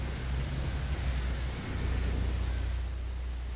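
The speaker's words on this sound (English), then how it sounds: "I like being outside. I don't care that it's raining." Steady outdoor rain pours in the video game The Evil Within, a dense, even hiss with a low rumble underneath that holds at a constant level throughout, with no voices.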